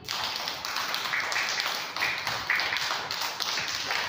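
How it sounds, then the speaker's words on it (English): A class of young schoolchildren claps their hands together in a prep classroom, producing a dense, continuous patter of many overlapping claps at close range for several seconds. "Clapping."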